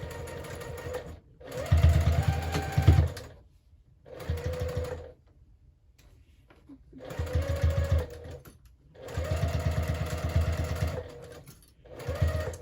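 A sewing machine stitches a quarter-inch seam in fabric strips in several bursts of steady whirring, starting and stopping with short pauses between runs, fairly close and moderately loud.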